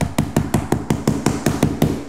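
A hammer taps vinyl plank flooring at a seam, giving about a dozen light, evenly spaced knocks, close and crisp, with no voices.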